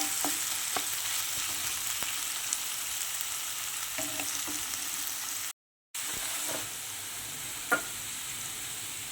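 Carrot and bean pieces coated in ginger garlic paste sauté in a pan for a coconut milk pulao, a continuous bright sizzle with occasional stirring clicks and a brief cut to silence midway.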